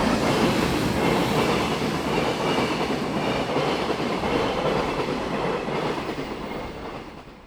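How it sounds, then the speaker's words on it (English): Sleeper train in Hokkaido bound for Hakodate rolling along the rails, a loud, continuous rumble with dense clatter from the wheels that fades slightly at the end. "This train is bound for Hakodate."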